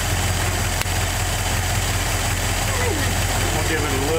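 A Plymouth Fury engine idles steadily with a low, even rumble and faint vibration that holds constant throughout, close and fairly loud, with a brief knock near the start.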